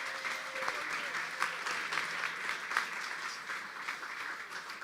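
An audience at a Republican candidate event applauds for both candidates, a fairly faint, sustained patter of clapping with a few sharper claps standing out.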